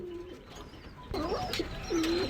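Pigeons in an indoor pigeon room give several close, soft cooing calls one after another against a quiet room hum.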